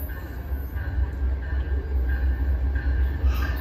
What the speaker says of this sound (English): I'm trying to get the look of the P-42 locomotive.